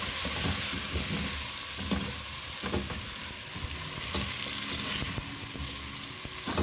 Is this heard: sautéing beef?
yes